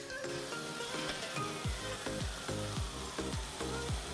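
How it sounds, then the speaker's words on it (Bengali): Grated coconut and kochu greens with salt, turmeric and a little sugar sizzle softly in a pan. Regular low scraping strokes of stirring sound roughly every third of a second under the quiet frying. "দিয়ে এবার অনেকক্ষণ নাড়াচাড়া করবো যতক্ষণ না শুকনো হয়।"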